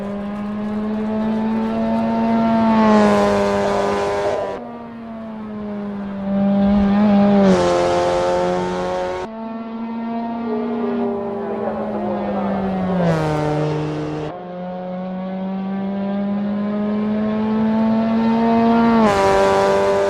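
A Mazda MX-5 race car engine in iRacing sim racing, revving up through the gears with a rising whine and sharp drops at each shift, repeated four times, loud and close.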